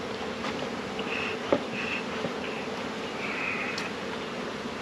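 Honey bees hum in a continuous swarm nearby around a hive, with a few louder buzzes passing close and a brief tap partway through.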